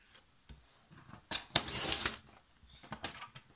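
Card paper is cut to 16 cm with scissors, producing a few soft snips and one longer, louder slicing swish in the middle, close and quiet against near silence.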